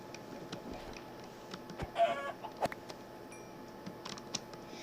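A small chicken clucks softly against a steady background hiss. A few brief clucks come close together near the middle, with faint clicks and taps scattered around them, and no talk.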